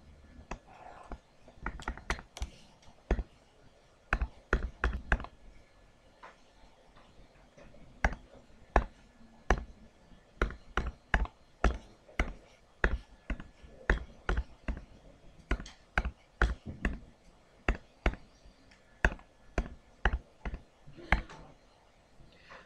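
Button presses on a calculator, sharp isolated taps in irregular bursts across a long stretch, close and clear against a quiet room.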